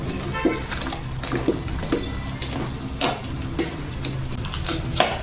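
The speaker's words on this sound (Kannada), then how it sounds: "ಹಾಂ, ಏಡಿ ಫ್ರೈ ಆಗ್ತಾ ಉಂಟು" Mangalore-style crab masala fries in a pan with a steady close sizzle, broken roughly once a second by the scrape and clack of stirring.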